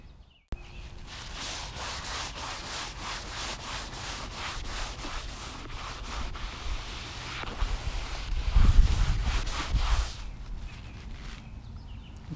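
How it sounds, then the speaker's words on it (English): Scrubbing grease and crud off a boat seat with brake cleaner: a steady, close, rough rubbing and scouring that runs throughout and swells louder just before it stops. "I'm going to take the last of the grease and crud off of this seat"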